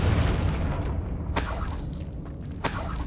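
Confringo blasting spell explosions in Hogwarts Legacy, a dense rumbling low roar with sharp bright bursts near 1.4 and 2.7 seconds, loud and continuous across the whole moment.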